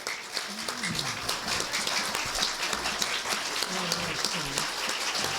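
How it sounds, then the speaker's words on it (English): Audience at a community fundraiser applauding the panel, giving a continuous wash of clapping with voices calling and talking underneath it the whole time. "Let's give them a round of applause, please."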